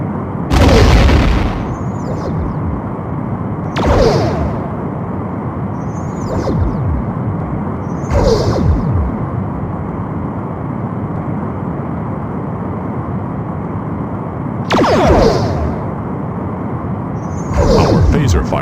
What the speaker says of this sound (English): Our phaser fire missed.